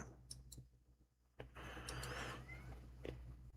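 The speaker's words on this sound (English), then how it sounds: "did I just hear a freaking cat?" Indoors behind a shut door, a cat gives a drawn-out, whiny meow of about a second, moderately faint over a steady low hum, preceded by a few soft clicks and knocks.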